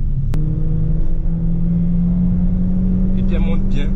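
Steady, loud engine drone from an Opel Vectra GTS climbing toward 6000 rpm, heard from inside the car with a constant rising hum under a speaking voice.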